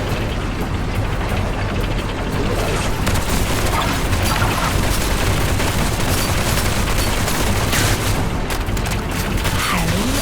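Dense, continuous booming and blasting fills the whole stretch, heavy cannon-like fire layered over a constant rumble of battle noise, in the video game Duet Night Abyss.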